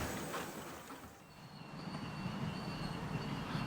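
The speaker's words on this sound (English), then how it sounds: "a ride on the miniature railway" Miniature railway train at a museum of steam-powered engines, passing as a steady low rumble with faint high squeal tones, moderately close and continuous, with no talk.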